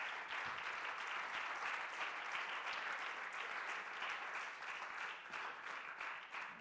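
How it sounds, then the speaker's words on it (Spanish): A congregation in a church service applauds together, producing a continuous, fairly distant-sounding wash of clapping that holds steady at a quiet level without any voices. "Un aplauso al Señor, hermano."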